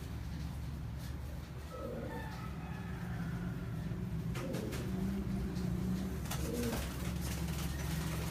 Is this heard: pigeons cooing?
yes